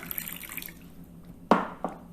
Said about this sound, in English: Add in a bit of water